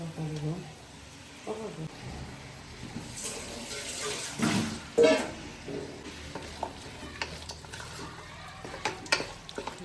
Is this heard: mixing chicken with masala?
yes